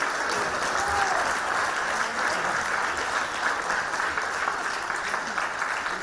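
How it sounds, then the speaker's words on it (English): A large audience applauds steadily after a group dance performance, dense sustained clapping with a faint crowd murmur, loud and continuous throughout. "Truly a huge round of applause for everybody."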